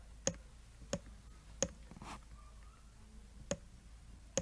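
A computer mouse clicks sharply six times, at irregular intervals, close and crisp against a quiet room background, with a brief soft rustle in between.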